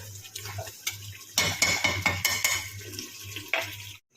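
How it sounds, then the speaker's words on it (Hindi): Masala roasting in a kadhai, stirred with a metal spoon that scrapes and clinks against the pan in quick repeated strokes over a low steady hum, close and moderately loud. "ऐसे इसकी भुनाई हो रही है"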